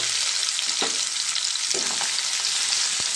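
Onions and green chillies with cumin seeds frying in hot oil in a pan, a loud continuous hiss with a few brief scraping stirs, close by, with no talking.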